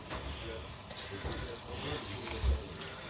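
Water from a 250 ml bottle pours steadily into a cooking pot for a veal and olive stew, a continuous splashing gurgle close by that swells briefly near the end.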